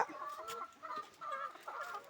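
A chicken clucks in a run of short, repeated calls, fairly close and steady, with no other sounds standing out.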